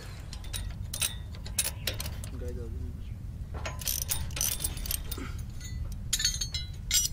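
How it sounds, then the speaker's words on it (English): A tractor-drawn seed planter rattles and clicks as it moves forward dropping seeds and fertilizer through tubes, with irregular metallic ratcheting and clinking over a low mechanical rumble. "While fertilizer goes through one tube, seeds are dropped one by one through another tube as the machine moves forward."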